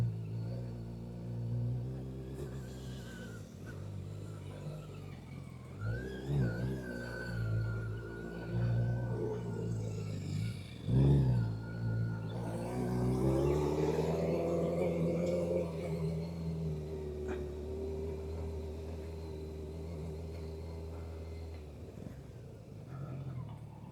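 A motorbike engine labouring up a winding hill road between Munnar and Vattavada in Kerala, a steady low rumble that rises and falls with revs, heard close and continuous throughout.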